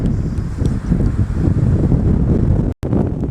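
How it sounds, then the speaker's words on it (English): Strong wind at a cricket ground buffets the microphone, making a loud, constant low roar and rumble with a brief dropout near the end and no other clear sounds. "the wind's really picked up"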